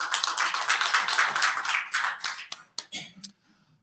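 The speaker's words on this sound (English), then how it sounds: "Let's give a round of applause for the students" An audience at an IETF research group session applauds the students: dense clapping that holds steady for a couple of seconds, then thins into a few scattered claps before fading out.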